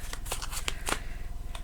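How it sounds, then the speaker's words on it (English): Playing cards shuffled close by, a quick rapid riffle of crisp flicking and snapping sounds over a low steady hum, no voices. "Right, so we can move over now because I've shuffled them"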